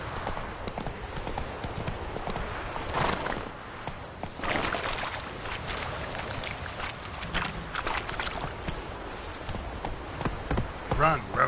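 Roach, the horse in The Witcher 3: Wild Hunt, gallops with rapid, rhythmic hoof clatter over a busy game soundscape, steady and close, with a short voice line near the end.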